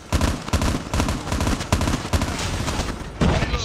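Rapid gunfire bursts and a grenade blast in a Call of Duty Mobile match, loud repeated shots in uneven clusters with a heavier explosive thump near the end, no talking.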